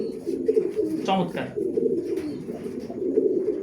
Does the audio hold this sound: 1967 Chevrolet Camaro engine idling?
no